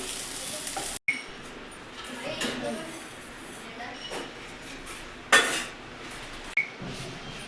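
Vadis brown in a frying pan with a low continuous sizzle, occasional clinks of a utensil against the pan, and a voice talking over it.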